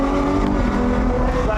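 A 2021 Ferrari 812 GTS V12 accelerates hard on the road, its engine note rising in a loud, continuous rev heard from inside the car.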